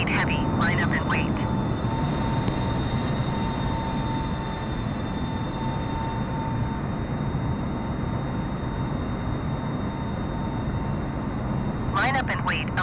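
An Antonov An-225 takes off at Los Angeles International Airport, a loud, sustained jet engine roar with steady tones, while radio voices crackle at the start and end.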